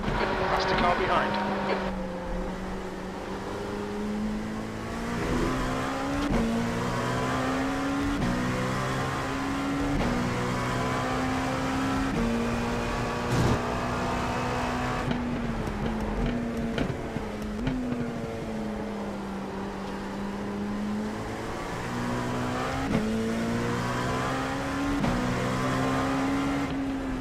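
Race car engines drone steadily at Daytona during a 24-hour mock run, holding a continuous loud roar with gear shifts and rising and falling pitch as cars pass, under radio-style spotter talk.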